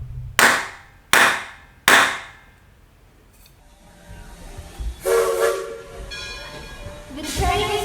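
A train departs with three sharp, loud bursts of steam hissing from the engine, followed by a rising rumble and whistle-like tones as it pulls away.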